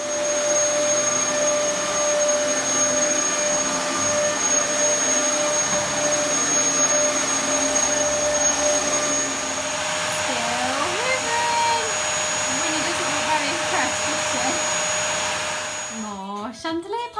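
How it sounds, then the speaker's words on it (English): A household vacuum cleaner hoovering upstairs during spring cleaning, a loud steady motor whine that runs nearly unbroken for the whole stretch, with slight pitch wavers as it moves, then a brief scrape and stop at the end. "I'm going to have a quick hoover upstairs and continuing my spring cleaning mission"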